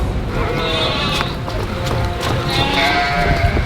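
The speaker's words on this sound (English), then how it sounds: "Is it a sheep in the creek?" A sheep stuck in a creek bleats repeatedly, its strained cries rising over a noisy outdoor background with people talking nearby.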